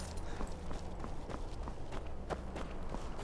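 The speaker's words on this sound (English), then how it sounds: "I hear footsteps." Footsteps on the ground in Skyrim, a steady run of soft, evenly spaced padding steps that stay faint and fairly close over a low background hum.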